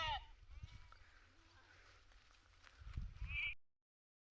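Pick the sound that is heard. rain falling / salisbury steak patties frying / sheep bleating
sheep bleating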